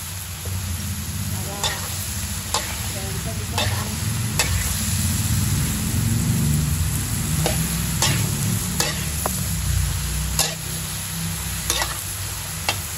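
Bottle gourd (upo) is sautéed with tuna in a pan, a steady loud sizzle with a spoon clinking and scraping against the pan at irregular intervals throughout.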